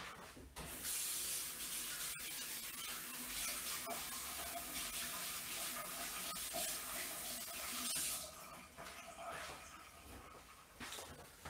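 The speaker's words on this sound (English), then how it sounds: "I wash my hands." Hands washed under a running tap, a steady rushing splash of water that thins toward the end, with low talk faintly underneath.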